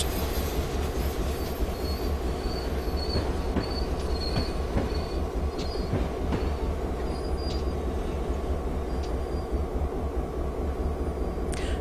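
A Norfolk Southern GP38-2 high-hood diesel locomotive in Train Simulator's NS Coal District rolls along with a continuous low rumble of engine and rail noise, punctuated by thin, high wheel squeals and faint clicks, with no talking.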